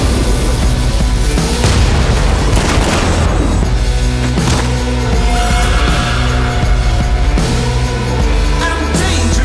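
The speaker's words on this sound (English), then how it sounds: "Let's blow that thing up." A dynamite blast in the Western game Desperados III, a loud, dense boom rolling into a sustained rumble beneath a steady, rhythmic musical score, with no talk.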